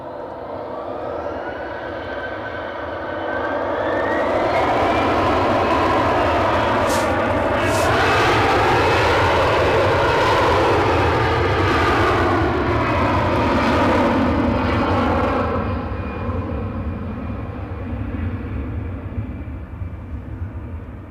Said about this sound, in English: British Airways are coming down the runway as well